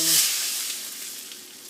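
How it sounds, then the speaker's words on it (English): A steak sizzles in a pan as it is basted with butter infused with garlic and rosemary, a loud, close, steady hiss and crackle that fades slightly. "Look at that sizzle."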